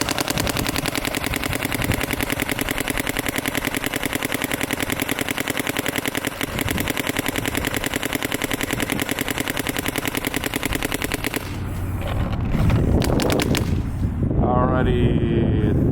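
Planet Eclipse paintball marker fired rapidly until the tank runs dry, a dense, continuous stream of sharp shots that stops abruptly near the end, followed by hissing and handling noise.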